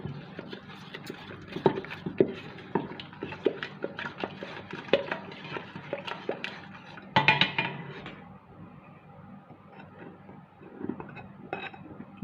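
Mloukhia being poured into a cooking pot and stirred, with repeated metallic clinks and scrapes of a utensil against the pot, irregular and fairly close, with little talk.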